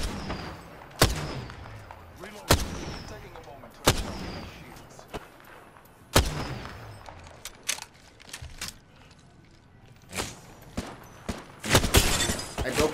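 Gunfire in a first-person shooter game, with sharp shots and bursts cracking out at irregular intervals, some near and loud, others more distant, over a busy background of game noise.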